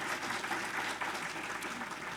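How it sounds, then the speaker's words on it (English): A chamber audience claps after an introduction, a steady, fairly soft patter of applause throughout, with no voices over it. "You can clap now"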